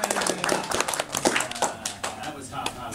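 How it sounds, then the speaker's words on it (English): A small audience claps sparsely and half-heartedly at a comedy gig, scattered uneven hand claps with a voice talking over them. "You can clap for me if you like."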